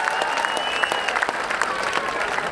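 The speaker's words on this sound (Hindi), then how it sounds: "जोरदार ताली से इस पहलवान का स्वागत करें।" Loud, steady applause from a village crowd at a dangal wrestling event greets a wrestler, dense clapping running throughout without pause.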